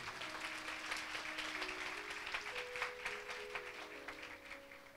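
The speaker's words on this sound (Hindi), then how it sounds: "जोर से ताली बजाएं खुदा के लिए" Church congregation applauding at the grand opening of a church, a steady wash of clapping that continues throughout, with a few sustained musical tones running underneath.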